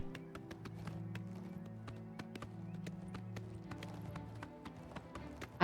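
Hooves of the demon horse Shadowmere pound in a steady, rapid gallop in a video game, with regular clip-clop strikes over a sustained musical drone.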